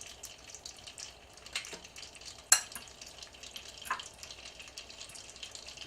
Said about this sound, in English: I've got sizzling in my pan next to me 3 tablespoons of butter